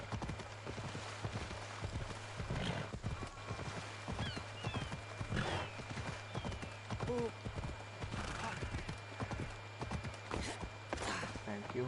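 Horse hooves clip-clop steadily in Assassin's Creed Odyssey, an even walking rhythm that runs throughout, with an occasional whinny and a voice talking over the game sounds.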